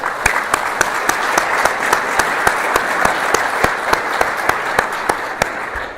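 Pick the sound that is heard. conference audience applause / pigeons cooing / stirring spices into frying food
conference audience applause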